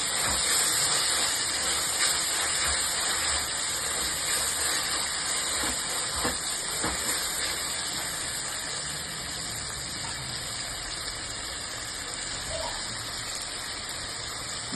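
Tomatoes sauté in a hot pan while cooking mochai kottai semiya, making a steady, even hissing sizzle for the whole stretch with faint scraping underneath and no talking.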